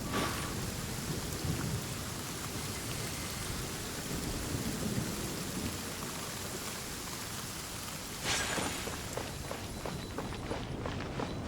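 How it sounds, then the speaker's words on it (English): Steady heavy rain with rumbling thunder in the video game Genshin Impact, a constant dense wash with a louder thunder crack near the end and footsteps moving through it. "Let us find shelter from the rain."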